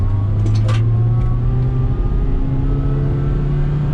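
A car engine drives and accelerates through the gears, a loud, steady close-up drone with a rising tonal whine and brief rattles, heard alone without talk.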